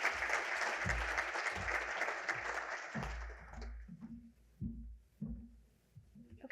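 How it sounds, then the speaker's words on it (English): Audience applause for a presenter at a regional native seed partnership conference session: steady, fairly full clapping for about three seconds, then it fades out, leaving a few low thumps and quiet room noise. "Can I get a round of applause for Matt?"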